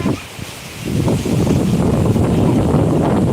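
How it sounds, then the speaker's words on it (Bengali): Strong stormy wind roars across the microphone under heavy clouds before rain, a loud, continuous buffeting rumble with no pauses. "হাওয়া তো হচ্ছেই মানে ঝোড়ো হাওয়ার মতো হচ্ছে"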